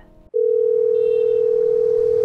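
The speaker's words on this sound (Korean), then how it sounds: "핸드폰이 울렸습니다" A mobile phone at home late in the evening sounds a single loud, steady electronic tone that starts abruptly after a moment of low room noise and holds unbroken to the end.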